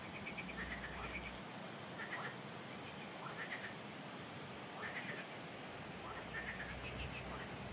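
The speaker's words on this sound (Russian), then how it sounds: "Лягушки так крякают громко по обоим сторонам," Frogs croak loudly on both sides, a repeated rhythmic chorus of raspy calls that pulse about once a second over a dense bed of night noise. They sound fairly near and continue without speech.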